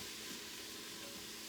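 Zucchini cooking in an Instant Pot, a steady soft sizzle and hiss with no pauses, fairly faint and close.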